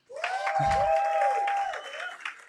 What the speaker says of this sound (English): we get a round of applause for my mom